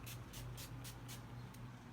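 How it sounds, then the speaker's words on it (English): NYX Matte Finish setting spray is misted in about five quick, soft hissing bursts at an even rhythm, faint and close. "Do just a couple sprays and just air it out."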